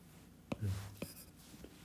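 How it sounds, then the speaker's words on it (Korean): Chalk or marker strikes and scrapes on a board during a high school math lesson, a few short taps with one longer stroke, close and fairly quiet, with no talking. "이쪽에다 써볼게요."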